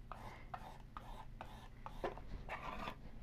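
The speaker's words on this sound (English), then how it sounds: "you can hear that sort of scraping sound. That's how you know that all of your ChalkArt is getting into the grooves." Chalk paste scraped through a stencil onto a charcuterie sign, a steady series of rasping strokes about half a second apart, close and fairly quiet.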